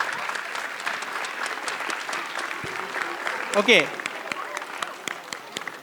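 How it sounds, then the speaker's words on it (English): Applause from a convocation audience honoring students and teachers, a broad crowd clapping that carries on under a speaker's voice, with a brief louder burst of activity partway through. "a round of applause for these students and teachers"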